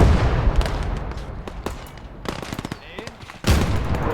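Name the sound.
machine gun firing in a video game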